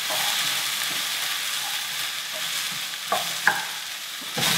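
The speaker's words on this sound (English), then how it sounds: "Give it a little toss over, get it all coming through. Another good reason for doing it in a wok." Courgette and mixed vegetables stir-fried in a wok: loud, steady sizzling and frying noise throughout, with a few scrapes and clatters of tossing near the end.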